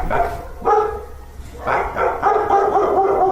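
Several dogs barking from inside a building, loud bursts in irregular clusters with brief gaps between, close by and without talking over them.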